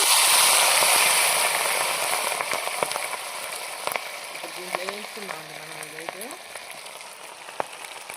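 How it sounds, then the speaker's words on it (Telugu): Chicken pieces fry in hot groundnut oil with a loud, dense crackle that eases slightly over time, broken by scattered sharp pops and a brief tonal squeak in the middle; no one speaks. "ఇప్పుడు ఈ మొత్తము మనం బాగా మంచిగా కలర్ వచ్చేంతవరకు వేయించుకో"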